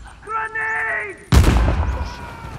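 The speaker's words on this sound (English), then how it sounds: "Grenade!" A grenade bursts in the action game Uncharted: The Lost Legacy, a sudden loud close blast with a rumbling tail, right after a shouted voice and sustained tone.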